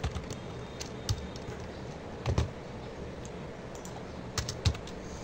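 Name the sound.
typing text on a computer keyboard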